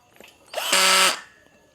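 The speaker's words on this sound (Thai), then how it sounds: "อันนี้เป็นโหมดเจาะธรรมดานะ ผมจะทดลองทัชเบอร์ที่ อ่อนที่สุดนะครับ" A DCA ADJZ1202 12V cordless drill in plain drilling mode at its lowest setting whirs up close, starting with a brief hum, rising into a loud steady whine for about half a second, then winding down.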